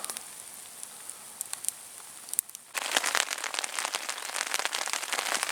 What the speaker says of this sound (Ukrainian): Пішов ще більше дощ